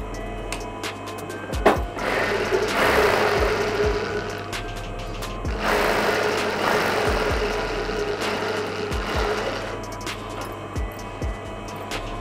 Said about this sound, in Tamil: நான் வந்து ஒரு 1/4 இன்ச் மடித்து தைக்க போகிறேன்.